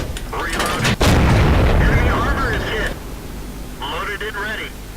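Tank cannon shots in World of Tanks from a T49, a loud heavy boom followed by rumbling echoes and mechanical whirring, with someone talking over the battle sounds.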